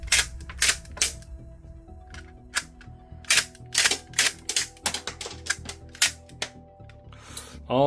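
A toy Glock 19 Gen 5 shell-ejecting pistol fires indoors, with a dozen or so sharp, close snapping shots at an uneven pace and faint clattering in between, and no talking.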